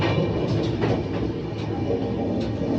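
A passenger train, heard from inside the carriage, gives off a steady, moderately loud rumble and rattle with a faint rhythmic clatter running through it.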